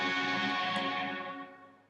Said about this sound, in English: here we have a more distorted sound